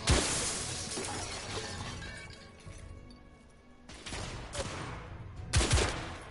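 Bursts of gunfire and shattering from blind-fire shooting in The Order 1886, arriving as dense loud volleys that come and go in uneven clusters, with quieter gaps between them.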